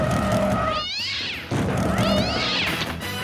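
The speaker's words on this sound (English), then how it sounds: "when you hear a cat screech when the invisible boatmobile comes to a stop" A cartoon cat screech sound effect from SpongeBob SquarePants as the invisible boatmobile stops: two loud rising-falling yowls in quick succession over busy background sound.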